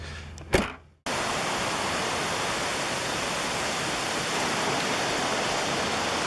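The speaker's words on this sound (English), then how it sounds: "This is Saranac Lake at the Bog River Falls." Bog River Falls at Saranac Lake pours in a loud, steady broadband rush of falling water that starts abruptly after a second of near silence with a brief knock, then holds constant.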